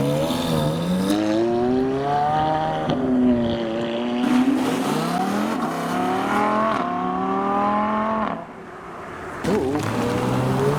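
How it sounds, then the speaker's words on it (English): A McLaren 570S and a Ferrari 430 Spider roll over a road bump leaving a car show, loud engines droning and revving close by with rising and falling gear tones. "We have the 570S negotiating the bump, and a 430 Spider."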